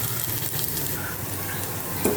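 Curry leaves dropped into sizzling oil with garlic in a pan, giving a dense, steady crackling hiss with faint stirring scrapes and a brief clink near the end.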